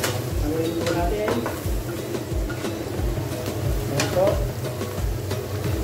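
A spoon scrapes and stirs chicken curry in a pan with onion and curry powder, giving a steady rhythmic scraping and clatter with light sizzling beneath, fairly close.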